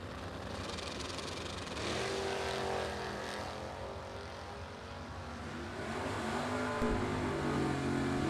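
A Camaro and a Mustang make a drag strip run in a Super Pro no box race, their engines roaring loudly and steadily with rising and falling pitch sweeps and no voices.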